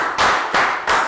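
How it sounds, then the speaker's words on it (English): Classroom applause for a student comes as three short, loud bursts of clapping separated by brief gaps, close and crisp with no talk over it. "Big round of applause for Pak Boom."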